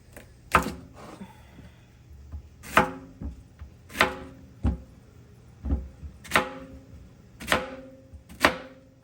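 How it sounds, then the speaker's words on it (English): Knife chopping zucchini into cubes on a cutting board, sharp irregular chops, some singles and some quick pairs, close up with no talking. "I will be chopping up my zucchini"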